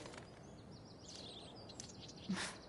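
Faint, brief bird chirps and tweets from a PS4 video game scene, scattered high over a steady low ambient background, with no talking.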